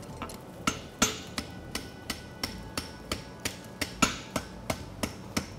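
Farrier's hammer striking a concave egg bar horseshoe on an anvil, about a dozen light, evenly spaced metallic blows ringing out one after another in a steady rhythm, close by and unaccompanied by talk.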